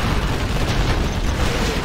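A Scud missile from Command & Conquer Generals launches and explodes in a dense, roaring burst of noise that fills the whole moment without a break.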